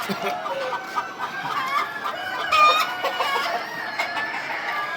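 Sonali and super hybrid chickens on a commercial poultry farm cluck and squawk continuously at close range, with overlapping calls from many birds forming a busy, steady chorus.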